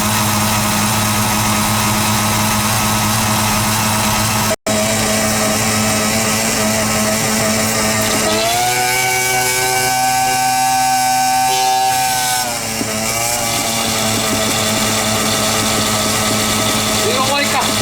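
A Ruud 410A air conditioner unit that is acting up and not cooling runs with a loud, constant mechanical drone and hum, its pitch wavering and sweeping partway through.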